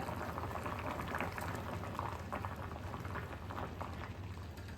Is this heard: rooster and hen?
no